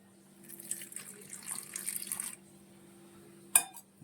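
Water runs into maida flour for a thick chicken batter as a soft pouring trickle for about two seconds, followed after a short pause by a single bright clink of a vessel.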